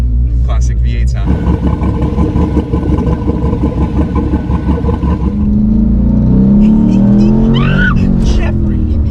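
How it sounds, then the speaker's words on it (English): An LS-swapped 500 hp Porsche 911 with a cammed V8 rumbles loudly from inside the car, revving and accelerating hard with tire squeal, while people shout and talk over it. "Classic V8 sound."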